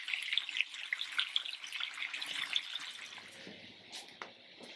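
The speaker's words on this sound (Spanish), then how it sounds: "aprovechando la grasita vamos a poner unos chiles jalapeños aquí" Jalapeño peppers sizzle in fat on an outdoor disco griddle, giving a soft, fairly faint hiss with scattered crisp pops and crackles that fade toward the end.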